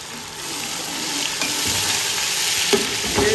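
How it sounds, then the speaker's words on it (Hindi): Ginger garlic paste frying with softened onions, an even close hiss of oil with soft stirring scrapes and a few light clinks toward the end. "अब इसमें डालेंगे अदरक लहसुन का पेस्ट"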